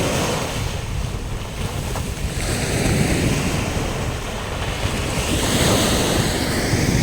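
Sea waves at Lagoon beach on Agatti, Lakshadweep, rolling and washing in a continuous loud surf roar, mixed with gusty wind buffeting the microphone.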